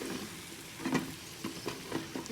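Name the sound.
spice paste frying in a pan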